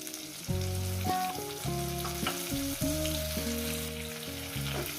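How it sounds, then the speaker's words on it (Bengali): Spice paste loosened with water fries in a pan for a tengra fish curry, a steady close sizzle heard beneath a continuous melodic tune, with no talking. "মশলাটাকে ভালো করে কষিয়ে নেব"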